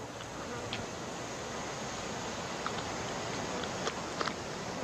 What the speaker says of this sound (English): Insects persist